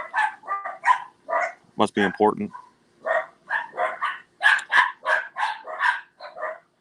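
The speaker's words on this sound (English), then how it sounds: "Excuse my dogs." Several dogs bark in a run of short, sharp yaps close to the microphone, while a voice speaks briefly among them.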